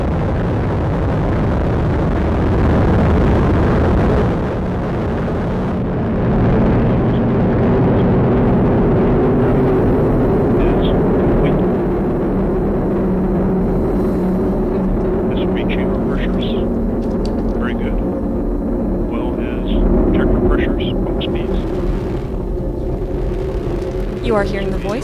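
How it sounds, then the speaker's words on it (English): Atlas V rocket ignition and liftoff carrying a missile-warning satellite, a loud sustained roar and rumble that swells and holds throughout, with a commentator's voice over it. "We have ignition and liftoff of the United Launch Alliance Atlas V rocket"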